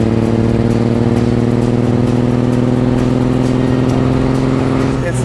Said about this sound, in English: It's like the engine works a little bit to pull this body around.